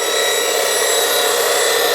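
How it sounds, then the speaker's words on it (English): A skew chisel held on a platform against a spinning 180-grit CBN wheel, giving a loud, continuous high grinding hiss with a steady whine throughout. "This is a CBN wheel, 180 grit. One side, then the other."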